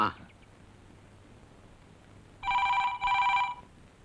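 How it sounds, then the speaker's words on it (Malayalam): An old-style telephone bell rings in two loud, clear bursts after a short quiet pause, a faint voice heard briefly at the start. "ഫോൺ."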